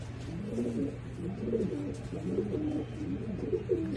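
Pigeons cooing steadily in a breeding loft, soft repeated low coos overlapping one another over a constant low hum, no talk.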